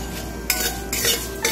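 Whole cardamom, cloves, a piece of cinnamon and dried chillies are fried in a pan, heard as a few bursts of metallic scraping and clattering from stirring, close and moderately loud, with little sizzle.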